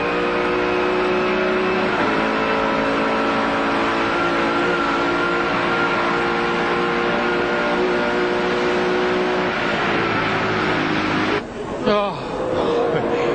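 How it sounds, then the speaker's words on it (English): A 1995 V8 Supercar race engine screams loudly and steadily at Bathurst, its harmonic pitch shifting with gear changes, then a brief sharp transient near the end as a car passes close; commentary talks over the engine throughout. "just listen to the pitch of the engine"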